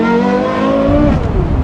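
Porsche Carrera GT with a titanium exhaust revs hard and high like a sport bike, a loud close engine wail with rising harmonics that drops off sharply as the throttle is released.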